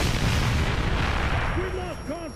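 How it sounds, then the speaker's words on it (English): A Reaver's shot in Gears of War rumbles as a heavy, sustained artillery-like blast with a rolling low roar, while creature-like screeches rise near the end. "That was a Reaver shot."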